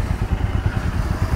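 A Royal Enfield Scram 411 motorcycle engine idles with a low, rapid, even thump, close and steady for a brief moment.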